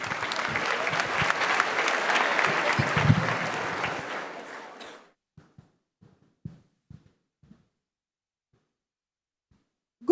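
Audience applause for a speaker at a conference on securities fraud and investment schemes, full and steady for about five seconds before cutting off, followed by a few scattered light knocks and footsteps in near silence.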